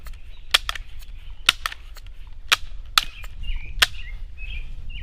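A Winchester 1977 XS pump air rifle fires outdoors, giving a handful of sharp, close cracks at uneven intervals with birds chirping in the background.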